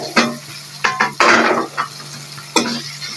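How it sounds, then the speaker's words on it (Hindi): Chopped tomatoes are added to a pan of frying onion and garlic for a tinde sabzi, giving a few short scraping stirs and clinks, then a loud burst of sizzling that fades, with another stir near the end. "टमाटर डाल रहे हैं।"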